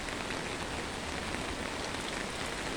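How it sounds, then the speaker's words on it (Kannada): Heavy rain pours steadily and loudly over a flooded farm area where the stream and garden have merged into one body of water, a dense unbroken hiss with no voices. "ನೋಡಿ ಎಷ್ಟು ಜೋರಾಗಿ ಮಳೆ ಬರ್ತಾ ಇದೆ."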